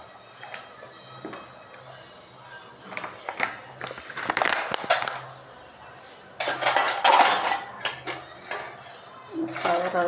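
Dishes and spoons being washed, utensils clinking and clattering in scattered bursts with running water rushing in the latter half, close by, while a person talks intermittently.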